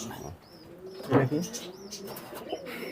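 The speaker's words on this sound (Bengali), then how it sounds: "এটাও দেশি চট জাতের কবুতর" Pigeons of a local breed coo at a pigeon farm, low throaty calls with one louder coo near the middle, alongside faint chirps and a soft voice in the background.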